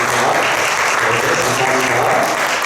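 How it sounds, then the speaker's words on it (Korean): A church congregation claps to welcome a first-time visitor, dense and loud applause from many hands filling the room without pause. "우리 환영의 박수 쳐주시겠습니다"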